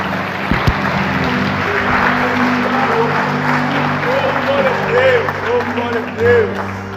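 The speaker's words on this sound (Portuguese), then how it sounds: "Aplauda Jesus pela vida do pastor Luciano." Church congregation applauding during an Assemblies of God service in São José dos Campos, a steady wash of clapping with tonal music or vocal sounds and some voices woven through it.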